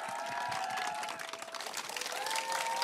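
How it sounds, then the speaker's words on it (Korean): Faint applause and scattered cheering from an audience at an outdoor camping concert, heard at a distance for a few seconds with musical tones and murmurs mixed in. "여러분 박수 주세요"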